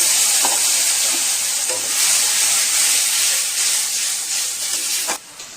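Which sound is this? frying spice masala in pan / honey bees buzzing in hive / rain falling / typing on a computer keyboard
frying spice masala in pan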